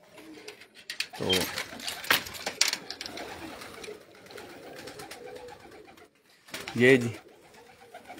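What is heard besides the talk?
pigeons cooing on a rooftop loft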